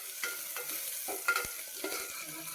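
Onion and curry leaves frying in a pan for a village-style Karnataka sambar tempering, a soft steady sizzle broken by a few scraping stirs of a spoon, close and fairly quiet with no talking.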